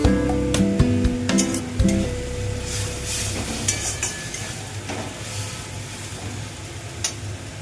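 Chicken masala frying and being stirred in a pan, a steady sizzle with scraping and clinking of the spoon near the start, close and without talk.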